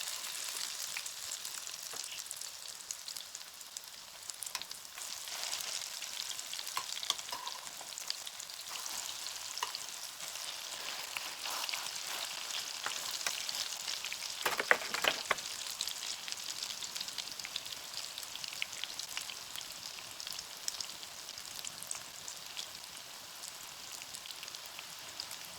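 Zucchini latkes frying in oil in a tilted pan, a steady close bright sizzle crackling throughout with a brief louder burst midway and no talk.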